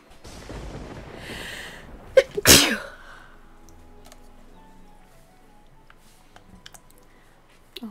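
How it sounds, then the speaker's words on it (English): A single sharp sneeze bursts out close and loud after some soft background rustle, followed by near silence with a few faint clicks. "I had to sneeze"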